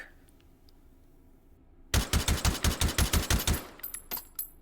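Suppressed SKS carbine fired in the VR shooting game H3VR: after about two seconds of near silence, roughly ten loud, evenly spaced muffled shots ring out in quick succession, followed by a few softer mechanical clicks.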